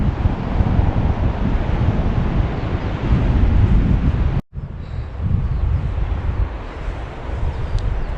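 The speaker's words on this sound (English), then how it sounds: "always nice to be at the side of the sea again" Steady broadband rush of sea surf on the Scottish coast at Carn Liath, with heavy wind buffeting, continuous and fairly loud, broken by a brief dropout midway.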